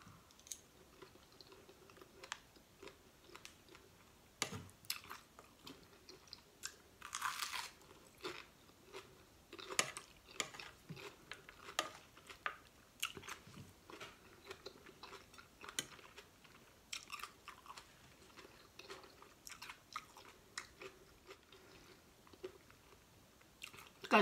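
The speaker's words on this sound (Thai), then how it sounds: "กัดเข้าไปโดนกุ้ง" Close, crisp crunching and chewing of a spicy Thai strawberry salad with fresh shrimp and crunchy peanuts, with irregular bites and mouth clicks repeating steadily throughout, quiet and without talk.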